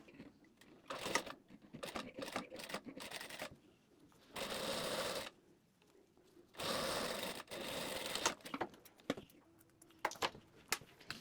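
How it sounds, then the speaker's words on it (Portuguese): A sewing machine stitches a zipper onto fabric: scattered clicks and short needle bursts, with two longer sustained runs of stitching, close and fairly quiet, no talking. "eu vou costurar esse lado do zíper aqui no pertingal"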